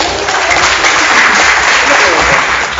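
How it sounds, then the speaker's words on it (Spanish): A seminar audience on mediation and penal conciliation breaks into loud, dense applause, a continuous wash of clapping that holds for about three seconds. "le agradecemos con un aplauso a nuestro último"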